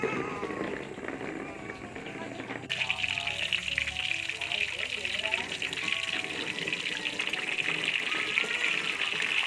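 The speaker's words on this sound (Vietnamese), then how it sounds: "bây giờ mình chiên đây mình cảm giác rất là thơm nè" Sesame-coated oyster mushrooms frying in hot oil, a steady bright sizzle that grows louder after a few seconds as more pieces go in, with faint background clatter.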